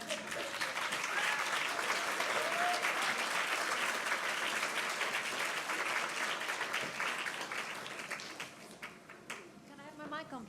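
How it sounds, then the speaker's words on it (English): Sustained applause from a conference audience at CogX 2019, dense clapping that holds steady and then thins out toward the end as a voice starts talking. "Please, round of applause"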